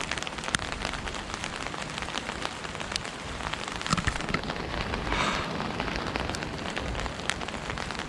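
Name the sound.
rain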